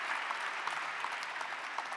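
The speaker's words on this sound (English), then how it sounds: "a round of applause for all of them" Audience applause after a panel conversation on regenerative finance and business, a steady even patter of many hands throughout at moderate, slightly distant level.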